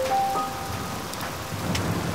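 Steady rain falls during a thunderstorm, making a constant hiss with a low rumbling undertone of thunder and no voices.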